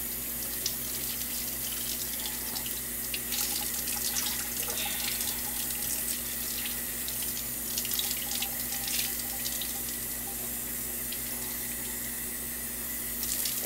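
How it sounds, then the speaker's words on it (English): A whole chicken is rinsed under cold water running from a kitchen tap into a sink. The water makes a continuous splashing rush with small changes as the bird is moved about under the stream. "rinse your chicken well with cold water."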